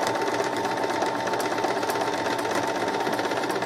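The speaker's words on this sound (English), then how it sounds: "So the first side I'm going to stitch" A sewing machine stitches fabric for a lavender pendibule in a steady, fast mechanical whir with a rapid needle patter, close and continuous.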